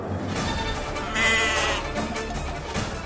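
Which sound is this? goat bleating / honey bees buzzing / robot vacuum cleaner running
goat bleating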